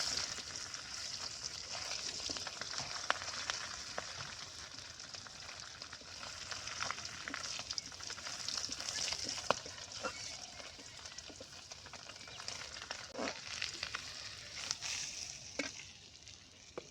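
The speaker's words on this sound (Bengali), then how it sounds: "টমেটো একটু ভালো করে ভাজা লাগবে" Tomatoes sizzle steadily in a hot pan for a silver carp and green banana curry, with scattered scraping clicks as they are stirred; no talking.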